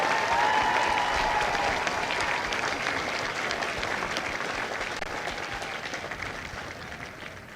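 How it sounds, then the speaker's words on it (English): Families and guests at a Marine Corps recruit depot graduation give Delta Company's drill instructors a long round of applause, a broad steady wash of clapping that slowly fades over several seconds. "please join me in a well-deserved round of applause for the drill instructors of Delta Company"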